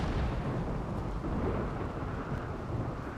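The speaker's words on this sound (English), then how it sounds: "the thunder is sometimes quite loud" Thunder in RimWorld rumbles low and steady for the whole stretch, mixed with a rain-like wash, and no one speaks.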